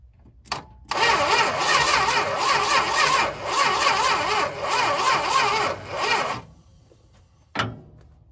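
A 1971 Dodge Charger Super Bee engine cranks over in one long bout of rapid, rhythmic starter churning lasting several seconds without firing, close and loud, bracketed by brief clicks and a short burst afterward.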